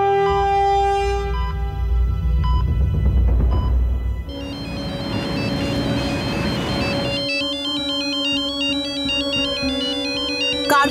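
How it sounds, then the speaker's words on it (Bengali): A phone ringtone plays a bright, repeating electronic melody that changes pattern partway through, loud and clear with no voices over it. "কার ফোন এসেছে গো?"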